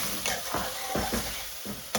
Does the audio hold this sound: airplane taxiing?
no